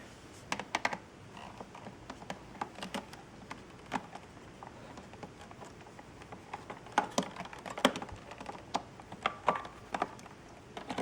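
Plastic parts of a Shark Navigator Lift Away vacuum cleaner being handled and clicked into place, a scattering of small close taps and sharp clicks over about eleven seconds.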